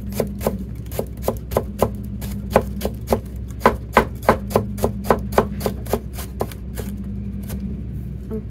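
A sharp knife chops fresh ginger on a cutting board. The blade strikes in a quick, even rhythm of about twenty crisp knocks, close and clear, over a faint background hum.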